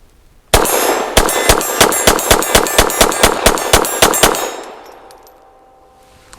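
Rapid string of about fourteen loud, sharp pistol shots from an EAA Girsan MC14G84 .380 open-top handgun at an outdoor range, fired at a steady quick rhythm with metallic ringing, then fading echo and quiet.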